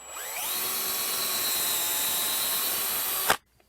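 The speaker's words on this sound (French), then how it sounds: "on prend tout simplement une perceuse avec une mèche 1/4 de pouce, et on fait juste" A power drill with a quarter-inch bit bores into a cedar fence post, a loud steady whine that spins up quickly, holds for about three seconds, then cuts off abruptly into near silence.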